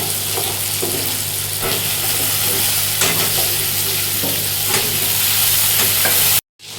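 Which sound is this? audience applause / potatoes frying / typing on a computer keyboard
potatoes frying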